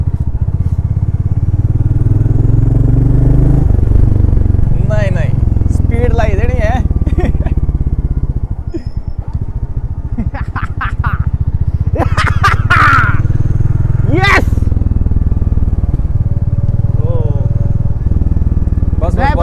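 A motorcycle engine drones steadily in second gear close by, rising and settling as it rides, with people talking over the noise.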